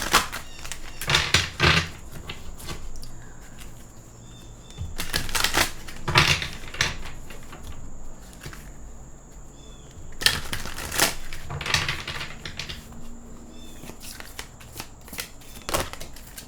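A deck of soul cards being shuffled close by in several quick riffling bursts separated by quieter pauses, each burst a crisp flurry of card flutter, with no talk.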